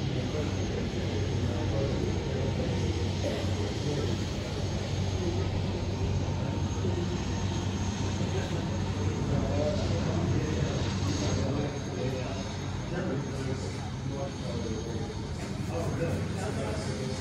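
A steady, broad roar from an airplane at Lukla Airport in Nepal fills the whole span at an even level, with a low engine drone running beneath it and no clear breaks.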